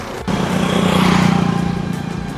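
A motorbike engine on a street during Holi in Lucknow drones and revs close by, a steady loud buzz that swells and eases slightly as it passes.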